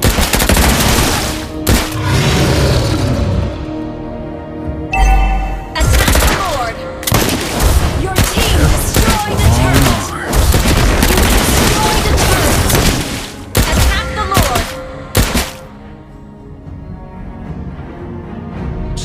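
Clint's gunfire in the Mobile Legends battle game: repeated loud bursts of shots and booming impacts come in clusters over the whole stretch, mixed with game effects, with voices talking at times.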